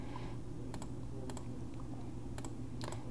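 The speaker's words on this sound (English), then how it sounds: "So I'm going to click all of these boxes." Mouse clicks ticking a row of checkboxes on a computer, sharp isolated clicks in small clusters at irregular intervals over a steady low hum, no talking.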